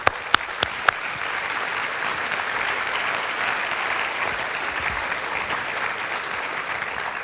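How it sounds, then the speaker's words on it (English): Keynote audience applauding themselves in a conference hall, a few sharp close claps at the start before the clapping swells into a steady, even roar that holds for several seconds. "one more round of applause for yourself"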